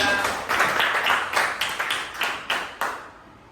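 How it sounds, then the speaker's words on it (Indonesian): A classroom of students claps for a classmate, a brief burst of brisk, overlapping claps that thins into a few separate slaps before fading to quiet. "Kasih tepuk tangan untuk Raya"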